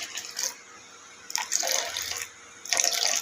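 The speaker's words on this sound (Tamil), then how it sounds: "தேவையான அளவு தண்ணி ஊற்றலாம்." Water poured into a container while making pomegranate juice, three short splashing pours separated by quiet pauses, close and fairly soft.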